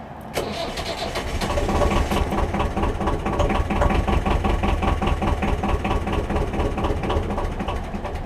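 A BMC 1.5 diesel engine cranks continuously after its glow plugs are primed, a rapid rhythmic churning of the starter that runs steadily for the whole stretch without catching, loud and close.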